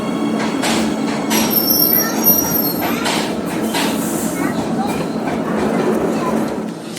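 A passenger train pulls into a platform on the Cuttack to Sambalpur line, its steady rumble and wheel noise filling the clip, with a thin high squeal of wheels on rails coming and going, while voices talk nearby.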